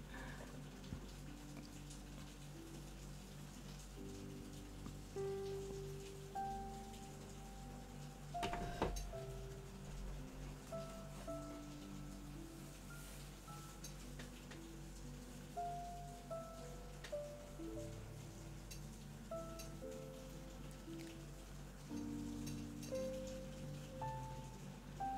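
Steady, faint rain falling at night, a continuous soft patter running throughout, with a few brief louder knocks and quiet tonal sounds in the background.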